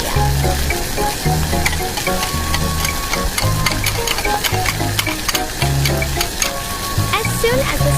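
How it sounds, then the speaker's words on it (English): Miniature snails cooking in a pot on a small stove, a steady bubbling sizzle with intermittent crackles and stirring clatter, close and continuous throughout. "Now we will boil the snails for the first time."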